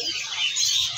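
A male Javan spotted cucak ranting gives a brief, high, bright chirping call, close and clear, lasting about a second.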